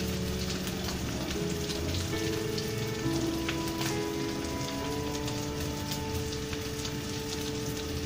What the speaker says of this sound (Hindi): तमाम कबाब जो है वो हमने इसके अंदर रख दिए हैं, अब ये फ्राई हो रहे हैं।